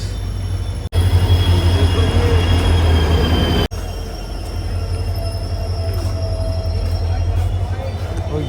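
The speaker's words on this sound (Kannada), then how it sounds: "ಟ್ರೈನ್ ಏನೋ ಬಂತು" A train arriving at a crowded station, its loud steady rumble and squealing wheels filling the scene, with a couple of abrupt breaks and a busy crowd murmuring underneath.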